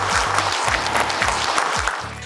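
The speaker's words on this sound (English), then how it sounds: "So can we have a big round of applause?" Crowd applause at a public speaking awards event, a broad wash of clapping with a low droning musical tone running beneath it and no voices.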